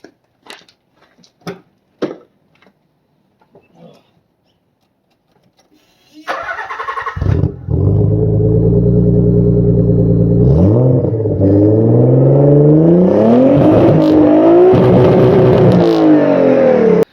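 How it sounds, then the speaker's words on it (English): A Nissan 300ZX fitted with an Abflug exhaust is cranked and fires up loudly after a few quiet clicks. It settles into a strong, close idle, then rises and falls through a couple of revs. "I'm going to do a startup for you guys. Maybe a couple revs."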